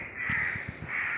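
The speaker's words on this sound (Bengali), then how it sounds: "দেখতে দেখতে ভোর হয়ে গেল কাক ডাকছে ভোরের কাক" Crows caw at dawn, a brief run of several quick, harsh caws in steady succession over a faint background, no speech.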